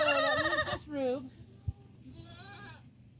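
Goats bleat in a wavering, nasal way: one long loud cry, then a shorter one, and later a fainter distant bleat, with a soft knock in between in a quiet farm setting.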